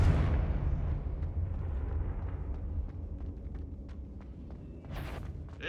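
A Confringo fire spell bursts in Hogwarts Legacy, a loud deep explosion at the start rolling into a long rumbling decay, followed by faint footsteps and scattered small impacts.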